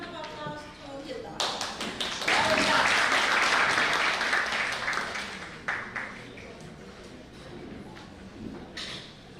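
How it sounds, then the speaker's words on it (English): An audience at a national symposium on women, peace and security gives a round of applause, clapping swelling to a dense peak and then tapering off, with talk in the room over the clapping. "And a big round of applause to Hilda"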